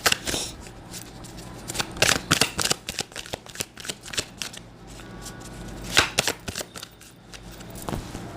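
Tarot cards being shuffled close up, with quick papery riffles and soft slaps coming in irregular bursts and no talk over them.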